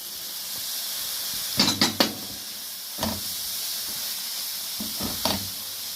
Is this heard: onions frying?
yes